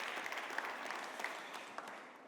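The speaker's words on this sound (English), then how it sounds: "Round of applause for him as he comes up" Audience applause at a carbon markets conference in Riyadh, a dense, steady patter of many hands clapping, moderately loud and fading slightly toward the end.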